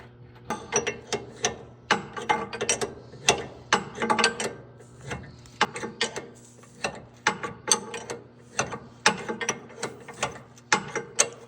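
A ratchet turns a nut onto the steering sector shaft of a 1984-2001 Jeep Cherokee XJ behind a lock washer, with quick bursts of close, crisp clicking in irregular runs and short pauses between them.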